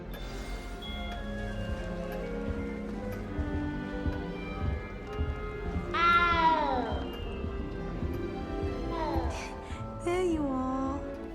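Several meows from a cat in a Harry Potter video game, including a loud rising-and-falling yowl midway and more cries near the end, over a steady background of game music.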